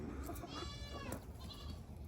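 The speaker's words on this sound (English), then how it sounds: "Oh, better let these goats out too, huh?" Goats on a farm bleat a few times at close range, one wavering call standing out over low background noise.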